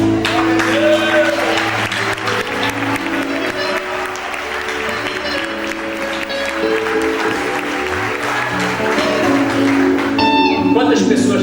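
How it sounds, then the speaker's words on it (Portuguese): A church congregation applauds during a worship service, sustained clapping mixed with voices and music or tones running under it throughout, fairly loud and close. "Aplausos."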